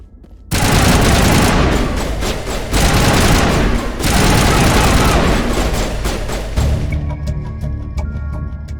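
Automatic gunfire in Mass Effect Legendary Edition, loud rapid bursts in long sustained volleys with brief gaps, ending in a lower rumble with scattered shots.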